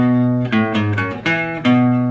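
Guitar sounds a fifth power chord and then picks a few quick notes around it, ringing close and clear over about two seconds before a final sustained chord.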